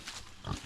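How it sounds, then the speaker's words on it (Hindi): Large pig grunting at a small rural house in northeastern Tripura, with two or three rough, low grunts, close and moderately loud, over outdoor background noise. "भाई इतना बड़ा सुअर।"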